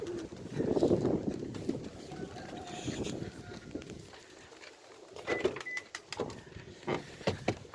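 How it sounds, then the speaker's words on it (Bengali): Pigeons kept in bucket coops coo softly in short, irregular bursts, set against a low rumble of wind and outdoor background noise. "ওই বালতি সিস্টেমে এরা কিন্তু কবুতর পালে"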